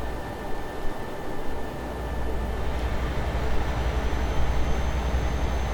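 A train passes in Euro Truck Simulator 2 on an Italian route between Bologna and Parma, a broad steady rumble with a faint whine that grows slightly louder over several seconds.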